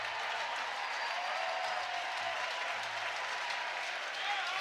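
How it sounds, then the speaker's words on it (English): Crowd cheering and applauding at a college softball game between Oklahoma and Sam Houston, a steady, dense roar of cheers and clapping filling the stands, sustained and fairly loud throughout with no pauses. "Listen to the crowd."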